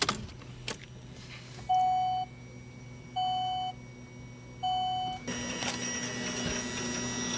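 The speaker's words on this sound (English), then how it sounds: "Let's turn the key on here and see if they both come on." Fuel pumps on a Chevrolet Cruze with an AWD swap and fuel upgrade, heard as a steady electric hum after the key turns on, with three evenly spaced tonal beeps and a click near the end.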